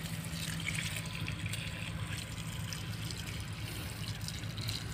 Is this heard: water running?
yes